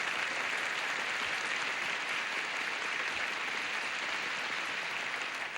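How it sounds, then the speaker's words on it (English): A game show studio audience claps and cheers steadily throughout, a dense, continuous round of applause with no speech over it. "Let's have a nice round of applause for these players."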